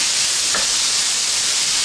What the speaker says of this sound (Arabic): فاش كنشحروا البصل كنشحروا معاه حتى فص ديال الثوم